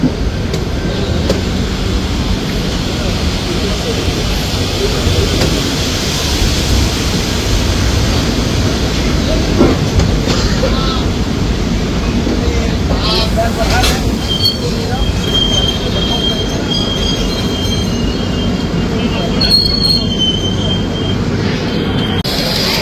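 Haldibari–Sealdah Darjeeling Mail at a railway station, a loud, continuous rumble of rolling stock with high metallic wheel squeals and some clanking, close by throughout.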